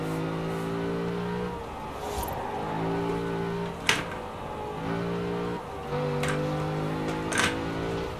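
A car drives in a racing video game, engine tones rising and dropping through repeated gear shifts, with a few sharp ticks and clicks layered over the steady motor sound.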